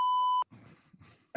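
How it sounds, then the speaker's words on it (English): A censor beep sound effect, one steady pure tone lasting under half a second, followed by brief muffled voice sounds. "Wait, I could beep myself."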